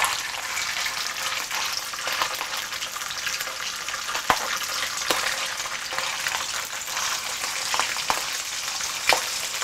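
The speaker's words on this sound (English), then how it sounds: "it's quite hot, the oil, so it's kind of a popping" Thick pork belly slices, about 1.5 to 2 inches, fry in very hot oil for a Malaysian dish with fermented red bean curd. A steady, dense sizzle runs throughout, broken by occasional sharp pops, with no talking.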